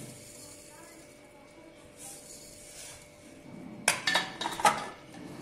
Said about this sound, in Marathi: जाड भांडं न घेता आता ह्या आवळ्यामध्ये ही साखर टाकून घ्यायची.